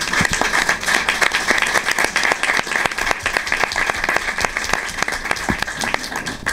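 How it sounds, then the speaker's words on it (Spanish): Steady, dense applause from an audience at a press conference, loud and sustained throughout with many overlapping claps and no pauses. "yo pido también otro aplauso para Pilar y Juan Carlos"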